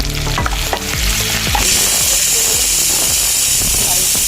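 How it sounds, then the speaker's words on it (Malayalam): Loud, steady sizzling of crushed garlic, curry leaves and dried red chillies frying in hot oil, with stirring clatters and scrapes early on, then a continuous hiss. "എണ്ണയിലേക്ക് തന്നെ ഒരു 4-5 ചതച്ച വെളുത്തുള്ളിയും കുറച്ചേറെ അധികം കറിവേപ്പിലയും ഒരു 5 വറ്റൽമുളകും ചേർത്ത് വറുത്ത് കോരി"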